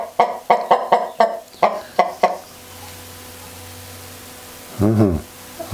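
A rooster with a deep, bass voice gives a run of loud, rhythmic clucks up close, then after a pause one short low crow, alone with no talk.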